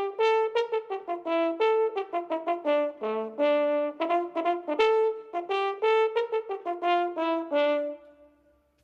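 Trombones play a lively, bouncy tune of short, punchy brass notes in a quick rhythm, with a few longer held tones, heard alone and up close.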